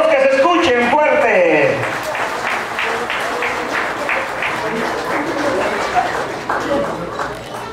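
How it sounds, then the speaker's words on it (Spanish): Guests at a quinceañera party burst into sustained applause after an announcer's voice, a dense wash of clapping from a large crowd in a hall with a few cheers mixed in. "Esos aplausos, damas y caballeros,"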